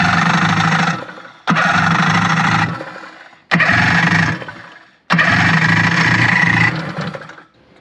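A 1984 Kawasaki stand-up jet ski engine cranks in loud bursts, stopping and restarting several times before catching and running, then revving and sputtering down at the end, heard close with no speech.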